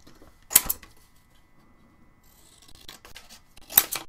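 Paper cut out with scissors for a drawing, two crisp close snips several seconds apart with faint rustling of the sheet between them.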